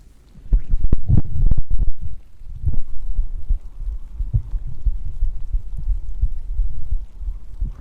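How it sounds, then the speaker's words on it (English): A heartbeat picked up by a close microphone while someone lies in bed under blankets, heard as soft, muffled low thumps repeating in an uneven pulse against faint rustling. "My heartbeat."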